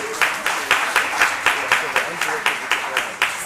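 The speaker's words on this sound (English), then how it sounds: "Give them a round of applause for me, please." A loud group of students at a business school orientation claps in a steady, regular rhythm, each beat sharp and close, with talking mixed in beneath the claps.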